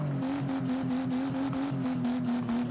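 A car in Forza Horizon 5 held at high RPM before launch, the engine note bouncing against the limiter in quick regular pulses, a steady buzzing drone behind it.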